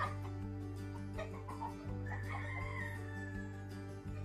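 Young gamecock roosters (stags) and cocks on a game farm cluck steadily under a constant low hum, and one crow rises clearly midway through.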